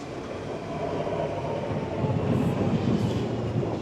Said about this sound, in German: Da kommt er schon. Der Zug ist ein Alstom Coradia Continental.